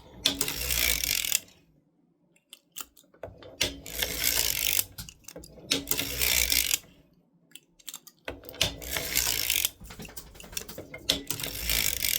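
A hand-cranked sock knitting machine knits a sock in repeated bursts of rapid mechanical clicking and ratcheting, separated by brief pauses.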